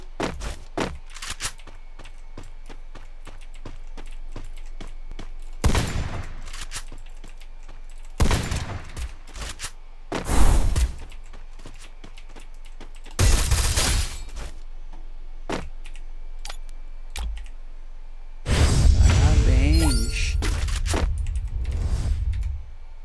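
Free Fire gameplay played on the BlueStacks emulator, with scattered gunshots and several loud bursts of gunfire separated by quieter stretches of small clicks and taps.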